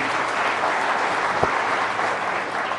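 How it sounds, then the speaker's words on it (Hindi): Steady, dense applause from an audience at the Rising Bharat Summit 2024 fills the moment, sustained and even throughout with a crowd-wide wash of clapping and no talk over it. "अनुराग ठाकुर जी के लिए जरा जोरदार तालियां हो जाएं प्लीज"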